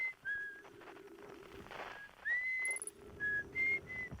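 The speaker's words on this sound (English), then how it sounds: "There's, of course, the whistling guy here on the Addle Rock." A character on the Attlerock in Outer Wilds whistles a tune, with clear, thin, wavering notes that come in short phrases and bend in pitch. They sit over a steady low hum and a faint airy hiss.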